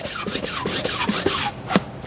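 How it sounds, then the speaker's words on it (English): A hand blowout pump clears dust from a freshly drilled anchor hole, giving quick, rhythmic, airy puffs close by, about two strokes per second. "So you use a blowout pump."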